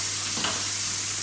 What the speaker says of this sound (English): The smell of those capers frying